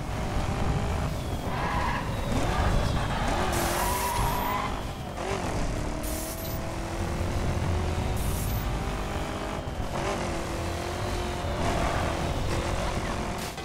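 A racing car boosting on nitrous in the video game The Crew roars continuously at high revs, with shifting engine pitch and skidding tire squeals, loud and close throughout.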